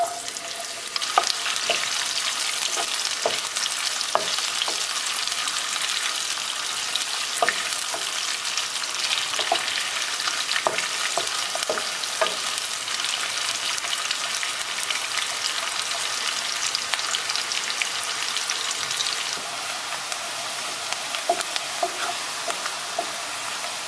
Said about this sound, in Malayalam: നമുക്കിനി ആ എടുത്ത് വെച്ചേക്കുന്ന സവോള ഒന്ന് വറുത്തെടുക്കാം.